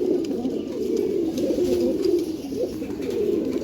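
A pair of Kashmiri high flyer pigeons, a cock and a hen, coo in soft low rolling phrases close by, repeating steadily with no talking.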